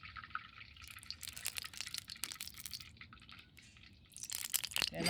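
Oil being poured into a pan before stir frying, with soft intermittent liquid splashes and dribbles, quiet and close, ending in a louder burst.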